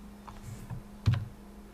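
Several computer keyboard keys and clicks tap lightly and irregularly, with one sharper press near the end, close and quiet with no talking, while a Linux command is pasted in Linux Mint.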